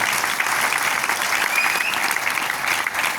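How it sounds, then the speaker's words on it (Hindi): Loud, continuous audience applause at a business recognition event honoring a team leader, a thick wash of clapping that stays steady from start to finish. "जोरदार ताली होनी चाहिए"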